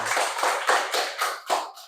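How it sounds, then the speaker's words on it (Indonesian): A classroom group claps hands together in about seven distinct, rhythmic bursts, close and fairly loud, with no talk. "Oke, beri tepuk tangan untuk kita semua."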